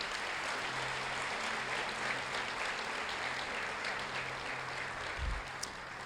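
A church congregation applauds at a worship service, a dense sustained clapping that fills the room steadily for several seconds, with faint voices mixed in.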